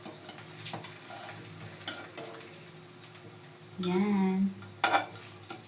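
Spam slices frying in a pan for breakfast give a steady close sizzle, with a louder burst of crackling midway and another short flare near the end, while someone speaks briefly over it.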